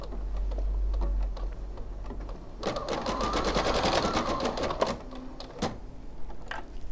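A sewing machine stitches embroidery on fabric for a make-up brush holder: a fast, even run of close mechanical ticking that starts mid-clip, holds for about two seconds, then trails into a few scattered clicks.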